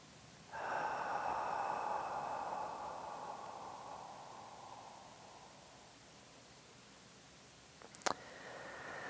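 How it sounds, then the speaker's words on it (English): A slow breath is drawn in and let out gently, one long soft airy exhale fading over several seconds in a quiet room, followed by a brief click near the end. "A nice breath in, exhale slowly."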